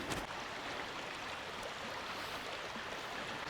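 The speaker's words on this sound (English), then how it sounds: "there's something really nice about just hearing that babbling brook." A babbling brook runs through a forest, its steady broadband rush of water continuous and fairly close, with no voices over it.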